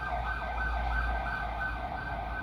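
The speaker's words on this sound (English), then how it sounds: "By the speed the police car's travelling, I expect it to be out of sound shot quite quickly" A police car siren wails in a steady, moderately loud tone as it speeds past. Low traffic rumble runs beneath the siren, and no one speaks.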